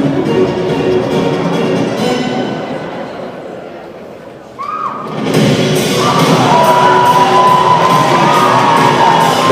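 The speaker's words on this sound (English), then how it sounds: "The crowd loves it." A high school crowd at a Herriman game at Copperhills roars and cheers loudly, dipping briefly before surging again with shouts and whoops that carry to the end.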